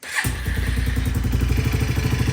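An Arctic Cat 250 ATV engine starts and idles with a fast, pulsing chug, and a metallic rattle from a loose part rides on each beat, close and loud.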